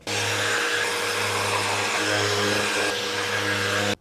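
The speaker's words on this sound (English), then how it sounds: "Now we'll get a quick sand and then assemble." A power sander works over cut wood shelf pieces, a steady loud whirring drone that runs nearly without a break and stops abruptly at the end, close by and without talk.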